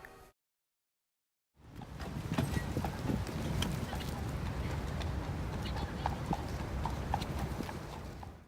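Horses pull a carriage through Central Park, their hooves clopping in a steady close rhythm that continues throughout after a brief silent gap at the start, with faint background chatter.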